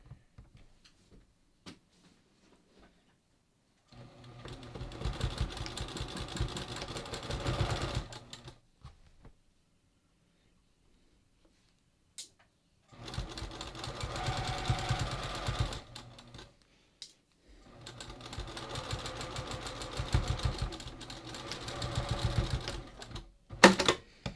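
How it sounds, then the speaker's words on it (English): Sewing machine stitching a shoulder seam at a 3/8 inch seam allowance on a cowl-neck garment, three steady runs of rapid whirring stitches separated by quiet pauses, close and alone. "now I'm just going to sew this using my 3/8 inch seam allowance"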